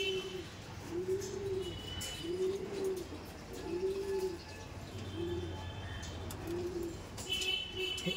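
Pigeons cooing in a large loft, a steady series of about seven rounded low coos at even intervals, close and clear above a soft background murmur.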